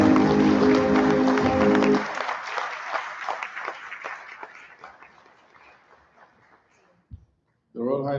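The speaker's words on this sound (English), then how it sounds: "very appropriate applause" An audience at a hospital event bursts into dense applause that thins out into scattered claps and fades away before a voice starts speaking at the end.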